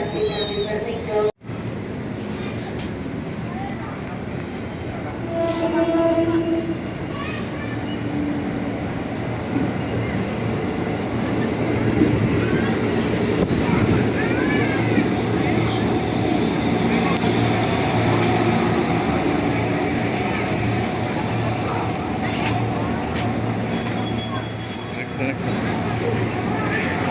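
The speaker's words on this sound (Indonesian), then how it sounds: "Kita di kereta KRL guys." A KRL commuter train runs with a broad, steady rumble and rushing noise that swells gently over time, with no talk over it.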